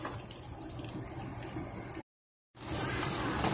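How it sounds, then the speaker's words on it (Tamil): Heated water poured into a pan for semiya upma, a steady splashing pour that runs for about two seconds, breaks off briefly, then resumes. "நம்ம இந்த சுட வச்சுருக்க தண்ணியை வந்து ஊற்றிடலாம்"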